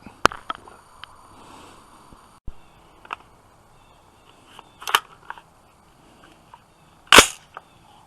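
Two sharp rifle shots from a Stag Arms AR-15 with a free-float rail and an Aimpoint Pro sight, fired well apart at an outdoor range, with small clicks and handling noises in between.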